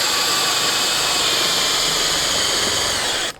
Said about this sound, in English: Then all we got to do is use a drill